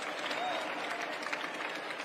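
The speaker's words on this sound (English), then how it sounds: "And Eloise claps." Applause and scattered clapping from the crowd at a lead climbing final in Madrid, a steady mid-level wash of hand claps lasting about two seconds, with faint voices mixed in.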